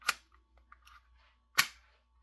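A Beretta M9A3 CO2 air pistol set to full auto gives two sharp, close pops about a second and a half apart, with faint mechanical clicks between them in a quiet room.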